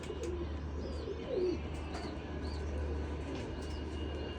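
Pigeons coo softly in a quiet outdoor setting, a few low warbling calls over steady background hum, with faint chirps from other birds.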